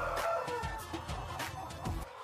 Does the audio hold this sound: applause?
no